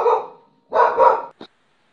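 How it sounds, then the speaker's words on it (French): Dogs barking indoors on a windy day: one short burst, a brief pause, then a longer double bark and a final sharp yip, loud and close with no talk over them. "Désolée pour les aboiements"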